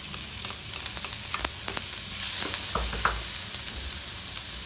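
Onion goes into a hot pan already holding ginger and garlic, producing a steady loud sizzle with scattered crackles and stirring scrapes, and a fresh surge of frying hiss partway through.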